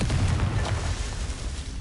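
A short, loud burst from a Confringo fire spell explosion in Hogwarts Legacy, a low rumbling boom that stays dense and noisy throughout.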